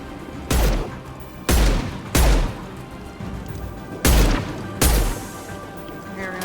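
Gunfire in the video game Mass Effect 2, a string of six heavy, punchy shots spaced roughly a second apart, each with a booming low thump and short decaying tail.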